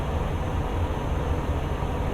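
A train rumbles past in Euro Truck Simulator 2 near a French road between Le Mans and Lyon, a steady, loud low-frequency roar that fills the whole moment without any break or talk.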